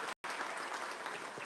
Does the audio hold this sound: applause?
yes